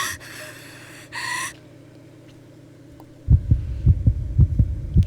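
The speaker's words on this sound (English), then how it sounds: "heartbeat is not a good sound effect I would like to hear right about now" Heartbeat sound effect from the horror video game Corpse Party: Book of Shadows: after a low droning hum and two brief breathy bursts, a loud, close, steady heartbeat thumps in rhythmic pairs.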